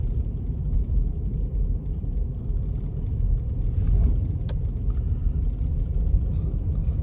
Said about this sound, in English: Driving on really icy roads.